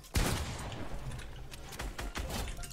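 Rapid gunfire bursts from a shooter video game, loud and close, with a sharp opening shot followed by sustained automatic fire and a few heavier reports near the end.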